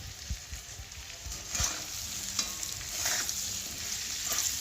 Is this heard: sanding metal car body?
no